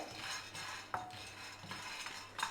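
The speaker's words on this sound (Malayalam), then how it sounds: "ഒന്ന് ചൂടായി കഴിഞ്ഞാൽ ഇത് കൈയെടുക്കാതെ ഒന്ന് ഇളക്കി കൊടുക്കണം" Chana dal dry-roasting in a pan and stirred nonstop, giving soft scraping and a few light metallic clinks of a utensil against the pan, quiet and close, with no voices.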